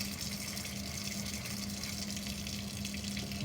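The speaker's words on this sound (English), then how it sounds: "Okay, let me turn on the water. Yep. We'll suck that water out of there." Water rushes steadily through a laboratory vacuum aspirator, a faint, continuous hiss with no voices.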